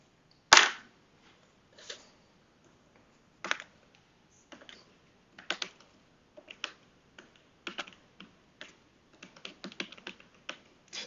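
Typing on a computer keyboard, one loud sharp keystroke followed by scattered irregular key clicks that grow into faster bursts of typing, close and crisp in a quiet room with no speech.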